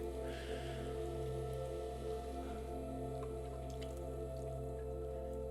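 Water drips and splashes onto wet clay on a spinning pottery wheel during throwing, soft and close over a steady low motor hum.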